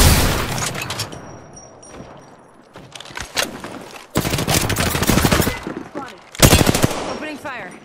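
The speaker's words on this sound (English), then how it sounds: "Opening fire." Gunfire in the video game Apex Legends: loud, close bursts of rapid automatic shots in dense clusters with brief lulls between them, mixed with game voice and effects.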